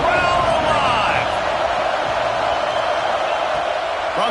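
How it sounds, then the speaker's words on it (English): Stadium crowd in the NCAA 26 football video game, a steady broad roar of cheering throughout that stays loud and dense under a commentator's voice. "Crowd alive."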